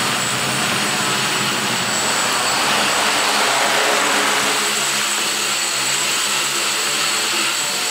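A quadcopter motor on a 3D printed motor mount for an HD500 quadcopter runs at full power, a loud, steady, broadband whirring roar that holds unbroken and close throughout.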